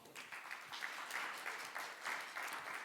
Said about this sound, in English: A round of applause, please, for our panel.